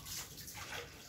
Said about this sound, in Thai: เทน้ำทิ้ง